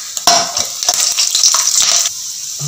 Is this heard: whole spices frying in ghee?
yes